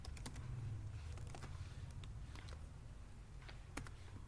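Keys on a computer keyboard are tapped in quick, irregular bursts of light clicks while code is typed in Visual Studio, faint and close, with no voices.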